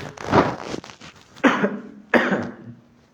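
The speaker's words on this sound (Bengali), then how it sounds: "দুঃখিত আমার কাশি হয়ে যাচ্ছে" Three separate coughs from one person, the first a longer rough burst and the next two sharp and close, sounding near and loud in a quiet indoor room during a lesson.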